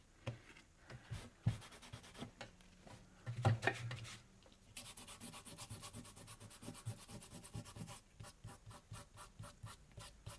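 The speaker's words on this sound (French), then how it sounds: "On essuie tout de suite la trace de colle." Paper craft work on a Christmas scrapbook album, a quick wiping of fresh glue residue heard as soft close rubbing and brushing strokes in uneven bursts, faint and without talk.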